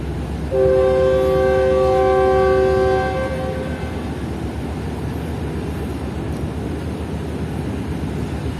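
The Fareed Express train gives its departing whistle, a loud, harmonic horn blast close by lasting about two and a half seconds, followed by a steady rumble of idling and moving rail noise.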